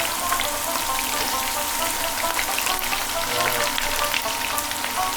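Sliced onions dropped into a hot frying pan of oil with garlic already browned, giving a steady close sizzle and crackle that runs unbroken throughout, with no talking.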